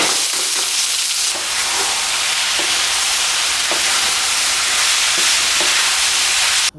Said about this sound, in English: we're first going to cook down our mince. Let's add some oil to our hot pan over here.